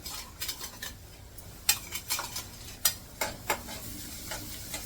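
Ground cumin, garlic and green chili sautéing with onions in hot oil, giving a steady sizzle broken by repeated clinks and scrapes of a spoon against the pan, close up with no talk.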